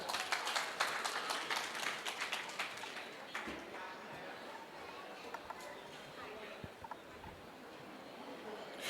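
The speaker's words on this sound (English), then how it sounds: "So can we give another huge round of applause for our Muay Thai warriors?" An audience applauds Muay Thai fighters at a talk show event, with a burst of loud clapping that fades into scattered claps and murmuring chatter.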